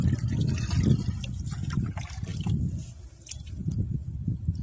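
Water is poured by hand into a farm motor pump to prime it, a continuous near trickling and gurgling flow that dips briefly midway before resuming, with faint voices in the background.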